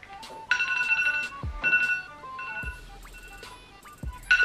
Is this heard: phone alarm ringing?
yes